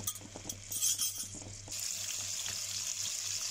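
Tomatoes hit hot oil in a pan, setting off a steady, bright sizzle that jumps louder midway and holds on, with light clinks of a utensil and no talk.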